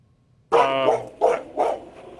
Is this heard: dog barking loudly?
yes